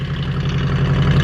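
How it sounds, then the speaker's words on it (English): A 1968 Ford Mustang Fastback idling through a Pypes Performance exhaust, giving a loud, close, deep pulsing rumble with a steady rhythmic throb throughout. "just the rumble of the exhaust sounds way better than it was before"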